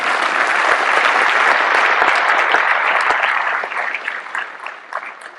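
Large conference audience applauding at a tech event's opening keynote, a loud, sustained roar of many hands clapping that gradually thins out toward the end.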